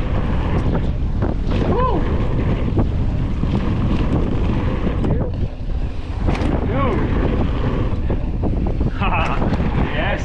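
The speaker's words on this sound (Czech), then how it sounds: "Teda fouká dost teďka" Strong wind buffets the microphone in loud, continuous roaring gusts at the Schladming bike park, with faint water and boat sounds underneath and occasional brief voices.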